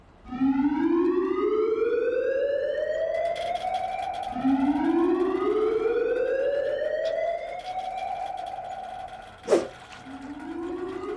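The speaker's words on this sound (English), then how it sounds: "Intruders on the island. Sound the alarm." A loud wailing video game alarm siren on an island rises repeatedly in long sweeping cycles, with a sharp bang cutting through near the end.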